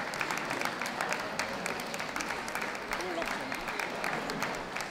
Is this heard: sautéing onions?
no